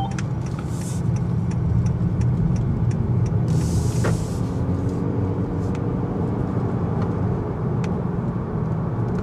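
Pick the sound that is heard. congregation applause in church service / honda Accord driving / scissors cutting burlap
honda Accord driving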